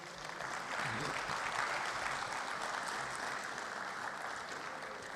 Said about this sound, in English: please applaud with me the moderator of session, Mr. Soji Awogbade